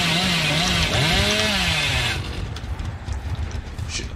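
A chainsaw revs in a video game with a loud, wavering engine whine for about two seconds, then drops to a rougher, lower idle rumble.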